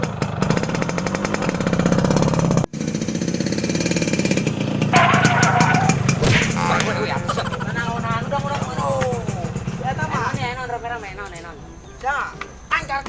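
A motorbike engine revs and rattles close by, mixed with loud chatter and shouting voices throughout, in a Sundanese comedy film.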